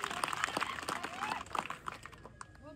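Spectators clapping at an outdoor village wrestling match in India, scattered applause mixed with an announcer's voice over a loudspeaker, fading toward the end.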